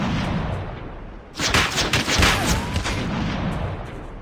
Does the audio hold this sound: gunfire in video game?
yes